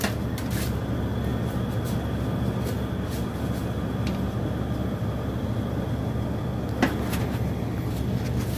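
A split-type air conditioner's indoor unit runs with a steady whirring hum, constant and fairly loud, with a few faint clicks and knocks near the start and end.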